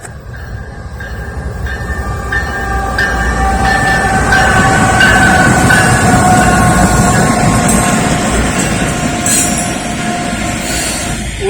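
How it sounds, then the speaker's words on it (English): Norfolk Southern southbound intermodal freight train rolling past near the Amtrak station in Lynchburg, Virginia: a loud, steady rumble of wagons with metallic wheel squeal and clatter, sustained throughout, with a faint horn tone. "Southbound intermodal."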